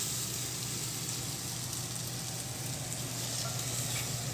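Mushrooms seasoned with garlic salt sizzle steadily in a hot pan as they are spread in an even layer, a close, continuous frying hiss with no talking.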